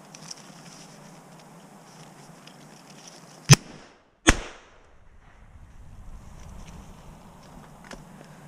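A Yildiz MC112 shotgun fires two sharp, loud shots about a second apart while hunting outdoors, each crack standing out sharply against a steady background hiss.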